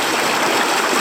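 A river in north-east Tasmania rushes with a close, loud, continuous wash of water over a short moment, with no voices.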